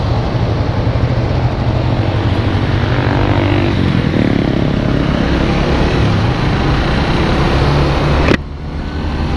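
A Suzuki GSX sport motorcycle with no windshield cruises along on a Sunday morning ride, its engine drone steady and loud under heavy wind rush, with a sharp bump near the end.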